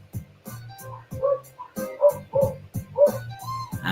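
Dogs give a rapid run of short yips and barks mixed with high, whining whimpers, loud and close, in uneven bursts.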